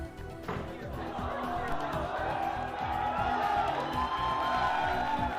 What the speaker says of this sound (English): cheers from the crowd were heard as hundreds of prizes were given away